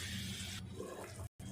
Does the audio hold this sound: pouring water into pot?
yes